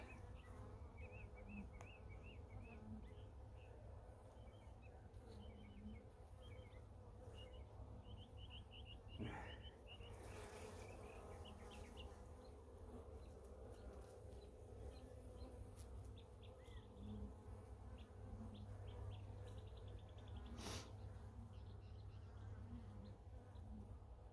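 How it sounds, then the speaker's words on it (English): Honeybees in an open hive during an inspection, their steady buzzing dense and continuous at close range, with occasional brief louder passes of individual bees and faint birdsong in the distance. "There's a lot of bees on the bottom, and I do not see the queen down there at all."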